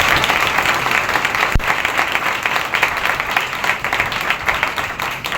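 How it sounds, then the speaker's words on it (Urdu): Loud, sustained applause from a church congregation during a Sunday worship service, dense clapping filling the room steadily throughout with no voices standing out. "آئیں پھر یسوع مسیح کے لیے زوردار تالیاں"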